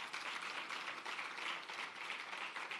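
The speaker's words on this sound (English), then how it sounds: "Give her a round of applause." An audience at an export academy launch applauds its master of ceremonies, producing soft, steady, continuous clapping heard at a distance with no speech over it.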